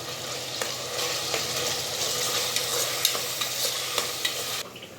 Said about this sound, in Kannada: ಈಗ ಚೆನ್ನಾಗಿ ಮಿಕ್ಸ್ ಮಾಡ್ಕೊಂಬಿಡೋಣ.